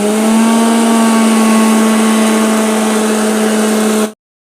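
Electric mixer grinder running steadily as it blends a chili and jaggery mixture, a loud continuous motor whine with a strong droning hum that holds for about four seconds and then cuts off abruptly.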